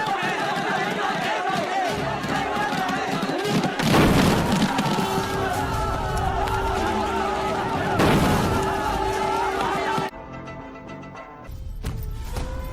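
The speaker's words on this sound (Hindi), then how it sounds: "हमने ही धमाका किया है" A staged explosion effect in a patriotic school drama about the freedom struggle: two heavy booming bursts roughly four seconds apart, set against steady crowd murmur and stage noise in a hall.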